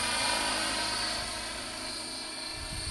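A training helicopter flies large figure-8 patterns, its rotor and engine producing a steady, loud continuous drone with a high turbine whine and a faint rumbling pulse underneath.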